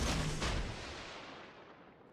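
Warship naval gunfire in the World of Warships game, a heavy booming salvo at the start with a second blast, then a long rumbling decay fading out.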